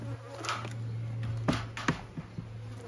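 A steady buzz of an angry honey bee swarm being moved into a hive hums close by throughout, with a few sharp taps and thumps over it and no talking.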